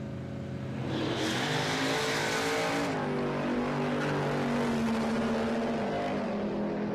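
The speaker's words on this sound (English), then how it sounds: "Still spun the tyres on the line, probably because those tyres have turned to molten" A Pintara wagon drag car roars off the line at a drag strip on worn, melting tyres. A loud engine howl and a hissing screech of spinning tyres lasts about two seconds, then the engine drones on steadily.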